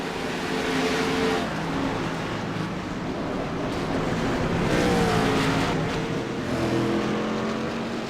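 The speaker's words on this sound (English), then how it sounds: "we've got a car around. Going to spin out, and we're wrecking" A stock car in a Talladega sim racing league event spins out and wrecks amid a pack of engines: a sustained loud drone of racing motors with tire roar and shifting pitch as cars stream past.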